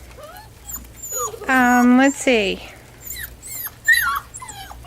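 Trick or Treat puppies whimpering and yipping in the snow, with high, wavering whines and one loud, sustained cry in the middle. A person speaks briefly nearby.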